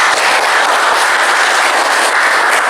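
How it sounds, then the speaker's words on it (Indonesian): A dense, loud burst of audience clapping from a classroom group fills the moment evenly, with no voices rising above it. "Beri tepuk tangan untuk kita semua."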